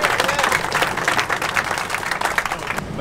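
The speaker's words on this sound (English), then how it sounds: "We owe them a round of applause for taking the time to do this event for us." Crowd applause at an outdoor minibike show, a dense burst of many hands clapping together for a few seconds at fairly close range.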